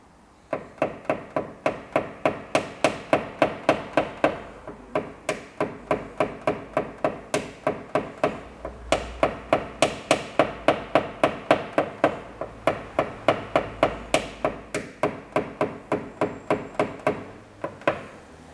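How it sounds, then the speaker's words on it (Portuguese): Hammer tapping out dents in a car body panel during paintless dent repair, with steady, rapid metallic taps repeated dozens of times in even runs and brief pauses, loud and close, with no talk. "ou até mesmo batendo com o martelo"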